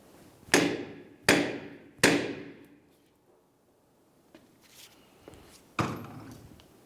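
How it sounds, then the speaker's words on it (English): A hammer strikes the rear brake drum of a 2010-2013 Ford Transit Connect to break it free from the hub, three loud metallic bangs in a quick, even rhythm, then quieter shuffling and one more heavy blow. "We want to use the hammer to break the drum free from the hub located behind it."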